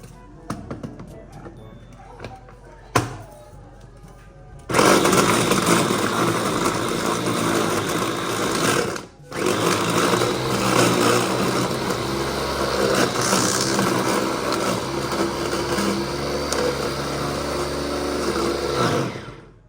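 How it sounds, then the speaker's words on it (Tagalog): A food processor grinds pork in loud, whirring bursts, with a short pause midway before running on steadily; a tap and light handling noises come first, and a voice speaks at times. "So buti at gumagana pa yung ating food processor."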